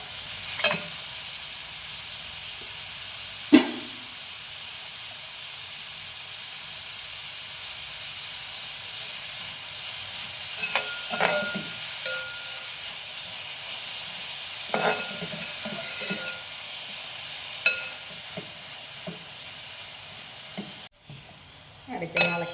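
Chopped onion with salt frying and stirred in a pan for a beef fried rice, with a steady loud sizzle and hiss, occasional scrapes and clinks of the spoon against the pan, and no talking.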